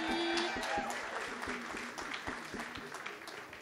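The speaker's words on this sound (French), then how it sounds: "Ouais, on peut applaudir." An audience at a festival opening in a concert hall applauds, with crisp scattered claps over a murmuring room and a voice speaking through it.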